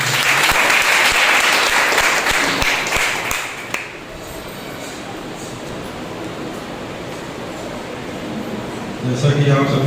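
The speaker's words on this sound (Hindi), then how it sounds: "आइए हम जोरदार तालियों से परमेश्वर की महिमा करते हैं।" A congregation applauds loudly at a Sunday church service, dense clapping filling the first four seconds before giving way to a quieter room hum, with a voice returning at the end.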